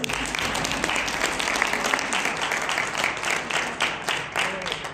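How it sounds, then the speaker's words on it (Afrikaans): A church congregation claps for a newly engaged couple during a service, a warm, steady round of applause filling the room from start to finish. "En kom ons gee hulle hande klap."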